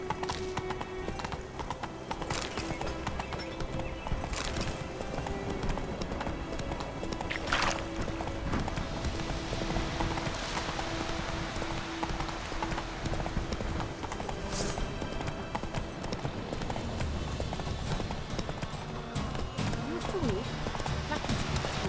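A horse gallops in The Witcher 3, a rapid rhythmic clip-clop of hooves running steadily throughout, with occasional brief louder thumps and game ambience underneath, moderately quiet overall.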